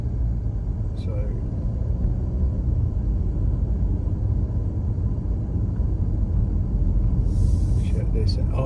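An Alfa Romeo Giulia Competizione 280 cruises the high speed bowl at Millbrook Proving Grounds, a loud, steady low engine and road rumble heard from inside the car, with a voice talking over it.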